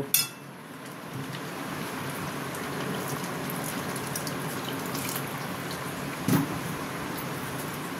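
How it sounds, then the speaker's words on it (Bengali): Water poured steadily into a pan of cooking kasha (Bengali egg curry), a continuous broad splashing wash with a brief clink near the end, no voices. "আমি আর একটু এটাতে জল দেব।"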